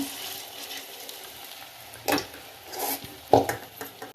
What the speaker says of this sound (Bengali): আর অল্প একটু আছে তো ভেজে নিয়ে এগুলো ভেজে তারপরে আমি তরকারিটা বসাবো